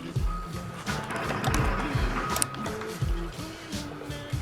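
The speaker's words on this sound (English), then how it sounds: "I'm going to go over now to the sewing machine and just sew the ears" A sewing machine stitching fabric bunny ears, close and loud, with rapid rhythmic needle thumping in several short bursts separated by brief pauses.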